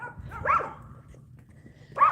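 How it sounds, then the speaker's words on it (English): Two sharp barks from a dog out on a suburban morning walk, spaced well apart, one near the start and one at the end, with low outdoor rumble in between. "enjoying a beautiful walk this morning with our dog, Meg."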